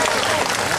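Audience applause at a youth arts festival in Sozopol, a brief, steady wash of many hands clapping at close range.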